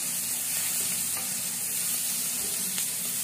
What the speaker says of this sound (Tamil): சோம்பு நல்லா செவந்தோடனே இந்த வெங்காயத்தை போடணும்.